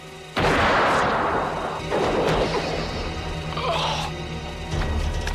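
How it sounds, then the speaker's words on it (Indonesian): A gunshot fired by a character in a jungle action film set in Panama, a loud sudden blast followed by crashing, whooshing impacts and a second sharp hit near the end. "Kemudian Milner langsung melepaskan tembakan"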